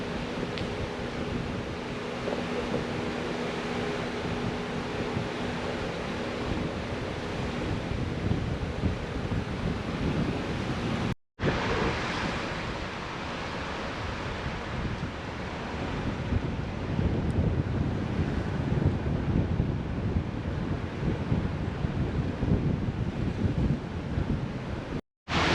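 Water rushes steadily beside the Roaring Fork Motor Nature Trail, a loud, continuous broadband roar with heavy wind buffeting on the microphone and a couple of brief dropouts.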